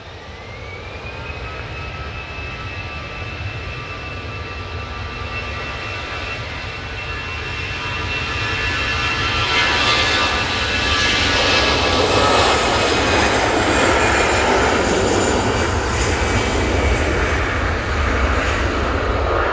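An Airbus A320-200 jet airliner at Manchester Airport, bound for Frankfurt, roars steadily with a whining engine tone, swelling louder and nearer midway and holding a broad, sustained rush to the end.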